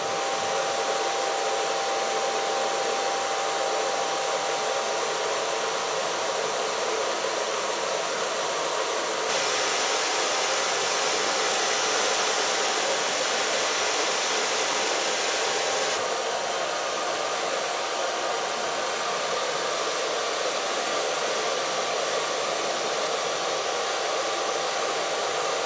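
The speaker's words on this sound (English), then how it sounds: "So far blow drying with the diffuser." A hair dryer fitted with a diffuser blows steadily on curly hair, a constant loud whooshing hiss that shifts briefly to a higher, brighter setting midway before returning to its original tone.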